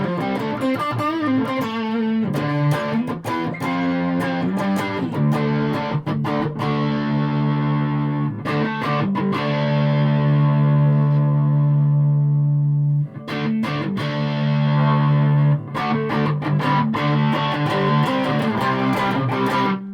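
An electric guitar through the distortion channel of a Carlsboro Nu Tone 250W guitar amp head, heavily distorted, playing sustained chords and riffs, loud and saturated, with long ringing notes and short choppy breaks, no talking.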